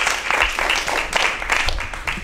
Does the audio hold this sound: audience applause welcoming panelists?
yes